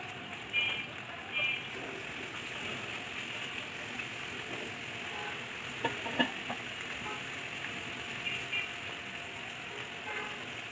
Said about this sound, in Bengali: মাছটা একটু ভালোভাবে ভেজে নিতে হবে।